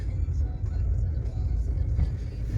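A small Ford car driving along a road near Bucha, with a steady low engine rumble and road noise heard from inside the cabin throughout.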